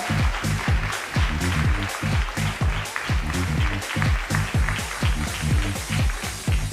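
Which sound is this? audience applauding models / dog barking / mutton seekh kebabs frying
audience applauding models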